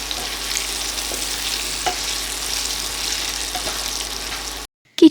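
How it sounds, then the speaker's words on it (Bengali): Turmeric, cumin and coriander powders fry in a pan while a utensil stirs them. The result is a continuous sizzle with light periodic scraping clicks, then a brief silence and a short knock at the end. "এক এক করে হলুদ গুঁড়ো, জিরের গুঁড়ো আর ধনের গুঁড়োগুলো দিয়ে দেব। দিয়ে ভালোভাবে মিশিয়ে নেব।"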